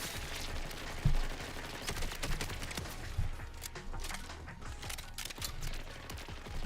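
Gunfire aimed at the player in the video game Borderlands, rapid bursts of shots and sharp cracks scattered across several seconds, a few heavier impacts standing out against a busy, noisy background.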